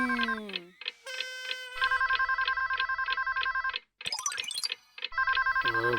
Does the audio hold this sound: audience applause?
no